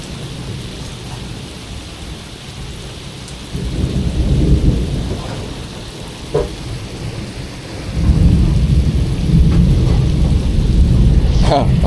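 Heavy rain and rolling thunder during a thunderstorm at sea off Thailand on an offshore fishing trip, a loud constant downpour with deep rumbles swelling midway and again near the end.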